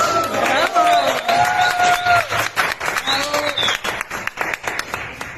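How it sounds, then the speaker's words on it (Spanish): Applause and crowd noise from the audience at a singing casting, with sharp claps mixed with sung and spoken voices over a steady clatter of hands. "Un aplauso para él."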